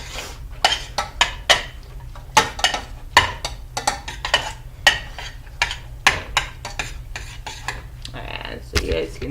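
A utensil stirs food in a pan, scraping and clinking against the metal in a steady run of distinct strokes, close up and without talk.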